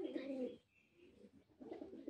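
A Jacobin pigeon, a male kept as one of a pair on a pigeon farm, coos in a low, throaty rumble. Two clear coo phrases sound close and alone, with a quieter gap between them.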